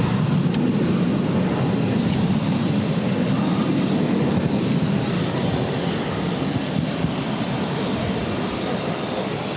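A Delta Air Lines Airbus A321 jet departs from Boston Logan, a continuous, powerful engine roar filling the whole stretch at an even, loud level with no speech over it.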